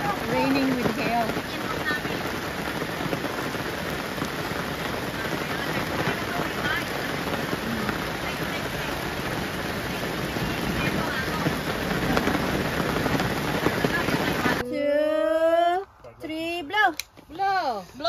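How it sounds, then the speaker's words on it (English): Steady rain mixed with hail pelts down on a farm in summer, a dense continuous hiss and patter with wind buffeting the microphone, and people talk briefly near the end. "Raining with hail."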